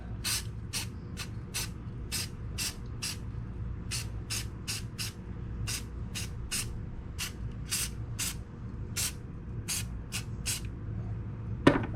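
Rust-Oleum Cobalt Blue Metallic spray paint coats a model truck in short, sharp bursts, about twenty quick hissing sprays in an uneven rhythm, close and loud over a low background hum.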